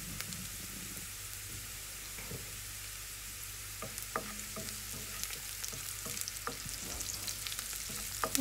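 Oil sizzling steadily in a pan after a light sprinkle of salt, a dense even hiss with occasional small pops and crackles building toward the end, close and with no talking.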